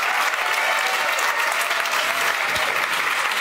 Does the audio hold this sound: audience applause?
yes